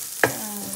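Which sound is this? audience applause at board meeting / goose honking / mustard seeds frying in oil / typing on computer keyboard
mustard seeds frying in oil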